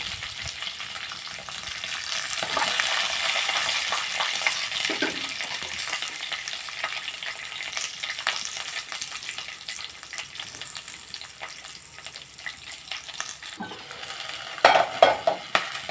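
About six green chillies frying in a hot pan, a steady close sizzle with occasional scrapes and clinks from a stirring spoon, a few sharper knocks near the end, and no talk.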